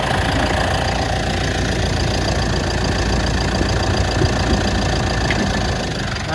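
A white 2016 Mitsubishi Pajero Sport Dakar 2.4 automatic diesel idles steadily in a clean engine bay, a continuous close, even mechanical rumble with a light knocking clatter and no voices.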